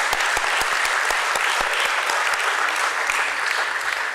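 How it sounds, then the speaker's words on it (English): Audience applause at the BSE stock exchange listing ceremony for RR Kabel Limited, steady crowd clapping with distinct crisp individual claps popping out near the start, sustained evenly for about four seconds. "let's have a huge round of applause for this absolutely beautiful moment"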